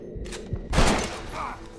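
Gunfire in the Western video game Red Dead Redemption: a couple of faint early pops, then a loud burst of shots near the middle with a booming tail and lingering reverberant rumble.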